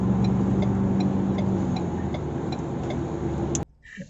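A 2020 Ford Ranger WildTrak twin-turbo diesel pickup in sport mode accelerates hard past a large lorry, a steady loud engine and road roar with faint ticking that cuts off abruptly near the end.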